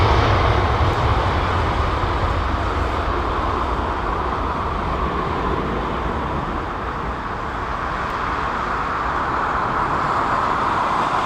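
A jet airliner powered by Rolls-Royce Trent engines at London Heathrow gives a loud, steady broadband roar with a deep rumble that holds for the whole stretch, no voices on top.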